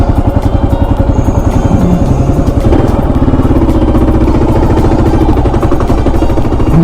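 A motorcycle pulls away in second gear on a town street, its engine a loud, steady, close rumble with rapid even firing pulses that build slightly as it accelerates.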